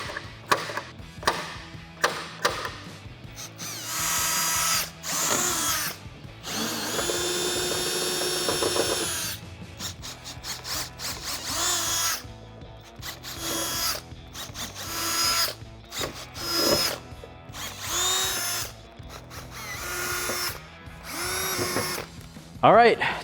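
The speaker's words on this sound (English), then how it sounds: "We finished drilling our holes." A power drill whines in repeated bursts as it bores holes through metal for a Dodge Challenger rear spoiler, with short pauses between holes and occasional brief talk.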